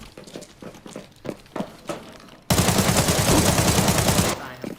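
Rapid automatic gunfire in the shooter game Arena Breakout: Infinite, opening with scattered single shots and short bursts, then a dense, loud sustained burst of fire for about two seconds before it cuts off.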